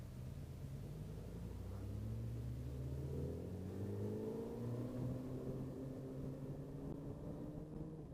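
A Suzuki Hayabusa motorcycle in second gear accelerates hard, its engine note climbing steadily from a low rumble to a higher, rising whine, continuous and fairly close with no talk over it.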